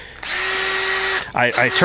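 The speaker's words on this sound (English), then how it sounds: "Then I take me a drill and I turn" A power drill whirs loudly at a steady pitch for about a second while working on a Lexus, then stops as a voice starts talking.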